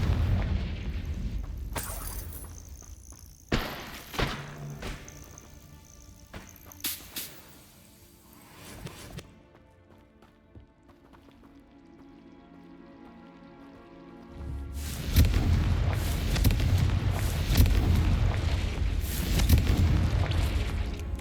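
Repeated sharp blasts of the Confringo spell in Hogwarts Legacy, a cluster of quick cracking impacts in the first seconds and then a quieter stretch, followed by a louder, sustained rumbling burst of explosions near the end.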